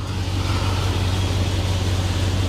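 A classic car engine runs steadily at idle after starting easily following a temperamental spell, a continuous low rumble with no distinct cranking heard.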